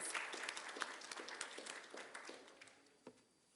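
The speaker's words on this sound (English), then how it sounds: "A round of applause." A round of applause welcoming the industry guest of honour at an evening business festival session, heard as distinct individual claps from a modest audience, fairly faint and thinning out toward the end.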